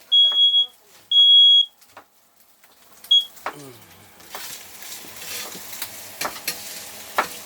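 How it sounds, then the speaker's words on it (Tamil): A smoke alarm in an RV sounds in shrill repeated beeps, then onions and food start sizzling loudly in a pan with clattering and stirring. "இந்த விசில் வேறு ஃபயர் அலாரம் அடிக்கும்"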